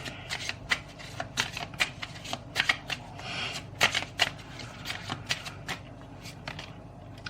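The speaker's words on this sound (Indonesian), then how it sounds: "Ya, aku shuffle kartu ini." Deck of playing cards being shuffled close up, a quick series of sharp riffling bursts and crisp flutters in irregular rhythm, with brief pauses between shuffles and no talking.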